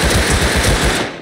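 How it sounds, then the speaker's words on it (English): Rapid automatic AK rifle fire in the survival game Rust, a loud continuous burst of closely spaced shots with no pauses that cuts off abruptly at the end. "I heard AK, did y'all not hear it?"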